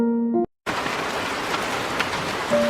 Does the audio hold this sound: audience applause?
no